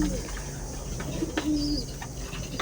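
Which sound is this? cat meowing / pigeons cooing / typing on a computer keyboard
pigeons cooing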